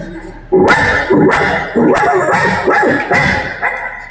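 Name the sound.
dog barking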